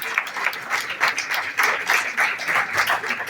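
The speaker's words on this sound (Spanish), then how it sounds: "Un aplauso al Señor por ser un Dios de vivos." Church congregation breaking into applause, a dense, steady wash of many hands clapping at close range with no voices on top, lasting a few seconds.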